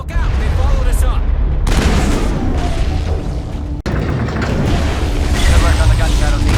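Turret gunfire and explosions on a battlefield in Mass Effect, a steady roar of shots and booms with a brief cut midway, while voices speak over the fighting.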